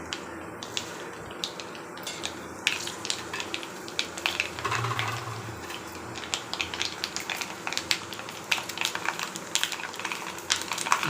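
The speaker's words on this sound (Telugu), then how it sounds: "తాలింపు వేడైంది, తాలింపు ఇస్తున్నానండి." Tempering of cumin, fenugreek and mustard seeds crackles and sizzles softly in a generous amount of hot oil for tomato pickle, faint scattered pops and spits over a low steady hiss.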